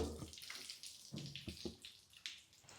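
Coolant and gasoline spilling from a blown-up TRX engine during a teardown, splashing and trickling in irregular bursts, fairly quiet and close, with no talk over it.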